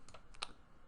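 A few soft, quick keystrokes click on a computer keyboard while Java code is typed, quiet and close by, with one sharper tap in the middle of the short burst.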